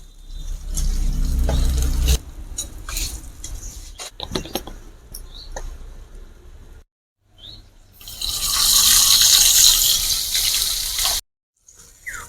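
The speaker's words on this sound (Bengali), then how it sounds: "এইভাবেই সব মাছ কটা ভেজে নেব" Red bhola river fish frying in oil in a pan, heard as bursts of sizzling and spattering broken by short quiet gaps, with some clatter and running water in between.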